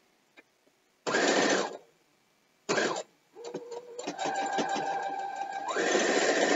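Quilt fabric being chain-stitched on a sewing machine for a Game Cube quilt, short mechanical bursts followed by a longer steady run of stitching, close and fairly loud.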